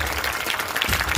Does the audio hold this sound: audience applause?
yes